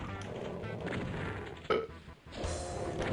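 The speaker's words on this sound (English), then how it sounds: "Excuse me, I just burped into the headset." A single burp lands close into a gaming headset microphone during a DOOM session, a short loud bump standing out over steady background game noise.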